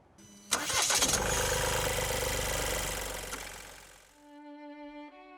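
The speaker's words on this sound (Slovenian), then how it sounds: "Kot ste slišali, je motor kar glasen, robat." An Opel Astra's 1.5-litre three-cylinder turbodiesel cranks and fires with a sharp catch, then settles into a loud, gruff, rumbling idle that slowly fades away as a tonal music bed rises.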